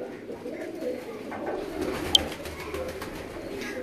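Pigeons at a breeder's loft coo softly and repeatedly, a low, steady murmur carrying through the few seconds without talk.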